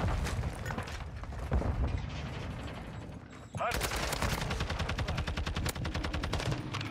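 Rapid assault rifle fire in Call of Duty MW2 ranked play rattles in long, loud automatic bursts, dense and close, dropping out briefly before a fast, steady stream of shots resumes.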